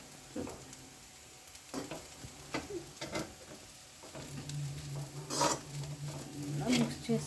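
A vegetable rice mixture with turmeric and cumin powder is stirred in a pan, giving intermittent scraping strokes and soft patter over a quiet sizzle, with a low hum joining partway through.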